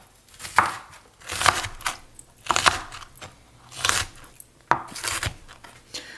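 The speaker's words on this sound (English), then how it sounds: "I'm just kind of randomly chopping them up." A knife chops onion pieces on a cutting board in short bursts of several quick cuts, with pauses between the bursts, close up and with no talking.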